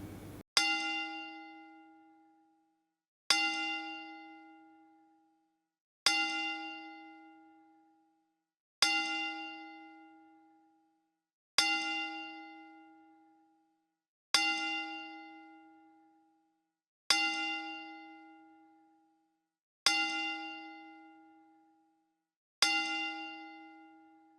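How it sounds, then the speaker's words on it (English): A bell tolls ten times in slow, even succession, each clear strike ringing out and decaying into silence before the next, heard alone. "May the bells toll 10 times for him."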